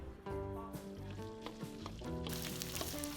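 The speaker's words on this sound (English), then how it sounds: "right here my mother-in-law is frying up some fresh roasted chili paste" Fresh roasted chili paste made with red chilies fries in a pan with a soft, continuous sizzle and crackle, faint and close, with no talking.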